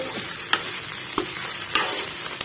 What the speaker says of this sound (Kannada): ಈಗ ಚೆನ್ನಾಗಿ ಮಿಕ್ಸ್ ಮಾಡ್ಕೊಳ್ಳೋಣ ಗ್ಯಾಸ್ ಫ್ಲೇಮ್ನ ಸಣ್ಣ ಇಟ್ಕೊಂಡನ ಈ ಪಲ್ಯನ ಮಾಡ್ಕೋಬೇಕಾಗ್ತೈತಿ